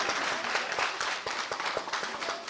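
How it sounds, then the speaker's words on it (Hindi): An audience at an Eid celebration applauds with steady, dense clapping from many hands that continues evenly throughout at moderate volume. "तालियां हो जाए, तालियां हो जाए यार"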